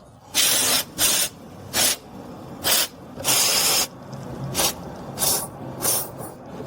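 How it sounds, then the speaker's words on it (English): Several short hissing bursts of a WD-40-type lubricant sprayed onto the sway bar link bolts of a 2012-2020 Ford Focus, each spray lasting under a second and separated by brief pauses, close and fairly loud. "Now, using a WD-40 equivalent, we will lubricate the bolts."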